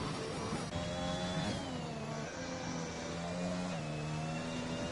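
A racing car's engine in a racing video game on a Spain circuit, revving continuously and loudly, with pitch climbing then dropping as it shifts up through the gears, on its own with no talk.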